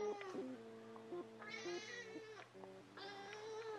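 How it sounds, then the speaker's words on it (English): A cat meows repeatedly, drawn-out and insistent, several calls in a row, fairly close in a quiet room with no talking. "Suddenly she's meowing."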